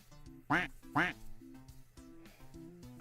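A duck gives two loud, close quacks in quick succession, followed by quieter harmonic honks and murmuring under a low steady background.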